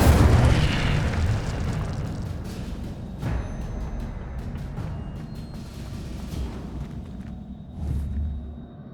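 The Incendio fire spell in Hogwarts Legacy goes off with a loud booming burst of flame, followed by rumbling blasts and whooshing fire effects that trail off and flare again near the end.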